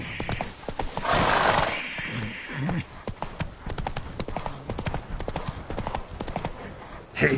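Horse hooves clip-clop steadily on the ground in The Witcher 3, with a brief whinny near the start and fairly close, even footfalls running throughout.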